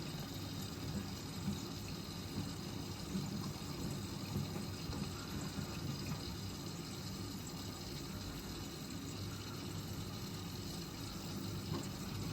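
Water rushes and gushes steadily inside a Miele W487 washing machine during a Cottons 60°C Rapid cycle, flushing down the glass door with a constant close hiss under a low machine hum.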